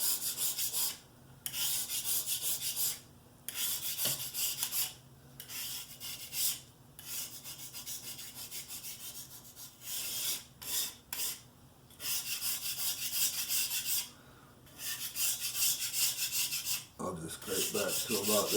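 Steady rubbing scrape of a tool clearing excess grout off a DIY concrete countertop, in repeated strokes a few seconds long with brief pauses between, close and fairly loud.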